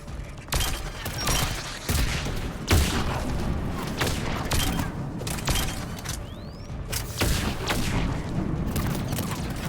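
Miniature rockets streak out and small mines burst in a Mass Effect video game battle, a steady chaotic fusillade of sharp pops and booms layered thickly over each other, loud and continuous throughout.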